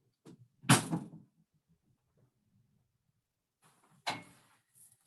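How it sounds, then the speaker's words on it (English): A door is pushed shut indoors, with two sharp close-range knocks about three seconds apart and quiet room tone between them. "I gotta close the door"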